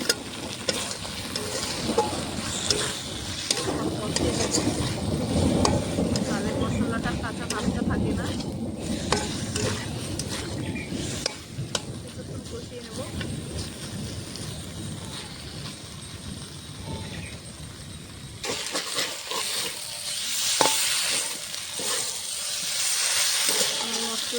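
Potatoes sauté in a pan with a continuous close sizzle and hiss as the water cooks off, broken by intermittent stirring scrapes, and the frying grows brighter near the end.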